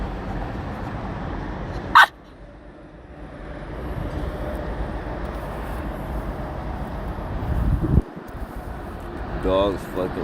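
Distressed, suffering dogs let out a few sharp barks and whimpers over a constant rumbling background, with human voices talking throughout.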